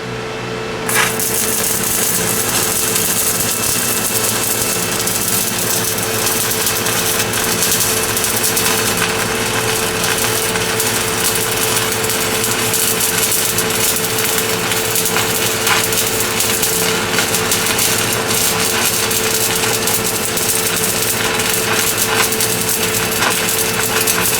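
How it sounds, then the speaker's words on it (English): SEFASPE 200 amp 110/220 volt stick welder running at 55, a loud, steady crackling buzz that starts after a second and holds unbroken for over twenty seconds, with faint hum beneath. "Oh yeah, she welds good."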